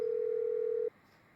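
A steady single-pitch phone tone sounds as a call connects in GTA 5, clear and loud for under a second before cutting off abruptly.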